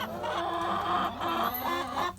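Chickens cluck and murmur close by in a steady, busy stream of short throaty calls, no talking.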